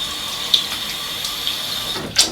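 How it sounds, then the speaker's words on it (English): Water runs from a tap into a sink to wet the face before a shave, a faint, light flow punctuated by a few brief splashes. "So just let me wet my face,"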